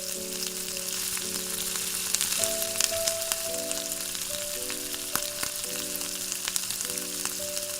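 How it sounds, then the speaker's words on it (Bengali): Capsicum sizzles steadily in a hot pan with onions for chili chicken, a close, continuous frying hiss under soft sustained background music. "ক্যাপসিকামটা দিয়ে একটু ভালো করে ভেজে নেব।"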